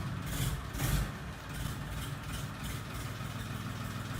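A tractor engine idles with a steady low diesel chug, close and continuous, with a slight surge near the start.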